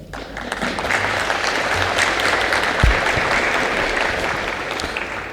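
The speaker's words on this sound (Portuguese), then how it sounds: "Minha salva de palmas inicial para essa enorme iniciativa." Applause fills a Brazilian plenary session honoring the events sector recovery law, a sustained broad wash of many hands clapping at even loudness throughout, with a brief low thump partway through.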